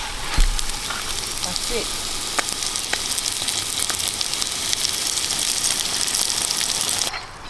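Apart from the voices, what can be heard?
fish frying over a beach cooking fire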